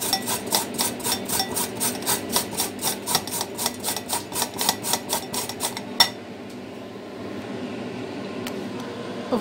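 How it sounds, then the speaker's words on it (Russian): A carrot is grated on a kitchen grater for soup in about twenty steady, rasping strokes close by, which stop abruptly after roughly six seconds, leaving quiet room tone. "Морковку натру на терке."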